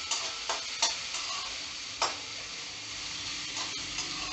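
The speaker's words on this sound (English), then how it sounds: "You just have to saute it. Do not turn it brown." Chopped onion sautéing in a pan for green peas kachori filling, a steady soft sizzle with occasional sharper scrapes and clinks of stirring, fairly close and without talk.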